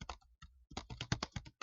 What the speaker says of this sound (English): it's as easy as typing it in here